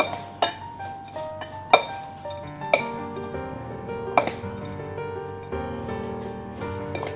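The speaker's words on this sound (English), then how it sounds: "Now we're just going to mix all of this up." Mashed potatoes are worked together with butter and spelt flour in a bowl, and a utensil knocks and clinks against the bowl's side in sharp, spaced strikes over a soft music bed.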